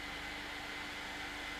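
A hairdryer blows a steady airstream, giving a constant broadband whoosh with a faint motor hum beneath it, close and unchanging.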